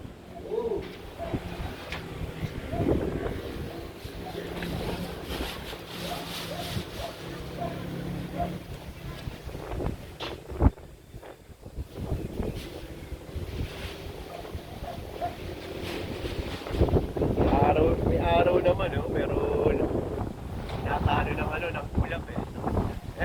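Gusty, cold wind buffets the microphone in rumbling bursts outdoors at a memorial park, with pigeons cooing and a voice talking intermittently underneath.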